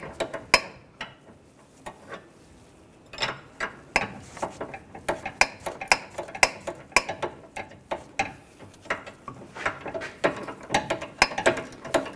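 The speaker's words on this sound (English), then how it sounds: "Using a 22mm socket on the stud, an 18mm wrench, a ratchet wrench, tighten the nut down." Ratchet wrench with a 22mm socket tightening a sway bar link nut on a 2011-2017 Nissan Juke, giving bursts of quick, close, sharp clicks in uneven strokes, with no voices.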